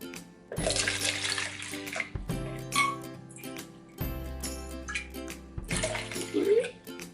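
Hot water poured from a container into an empty container, heard as a few separate splashy pours with short pauses between them, close and fairly loud.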